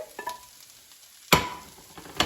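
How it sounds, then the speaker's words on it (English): Cooked bacon is stirred into frying cabbage in a pan, a few brief scraping stirs and a faint sizzle, with one louder clatter midway and another at the end. "now I'm going to mix in the bacon."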